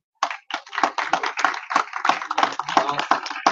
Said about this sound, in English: Round of applause for Dan here.